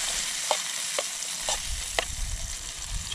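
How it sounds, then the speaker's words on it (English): Steak frying in a pan at a canoe camping site, a steady loud sizzle with soft stirring scrapes about every half second, close up and without speech. "Get the steak going."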